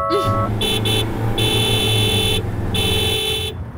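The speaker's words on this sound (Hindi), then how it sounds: "हॉर्न सुनाई नहीं देता क्या?" A car horn honks in several sharp, loud blasts, some short and some held, close by over a low engine hum in a street scene.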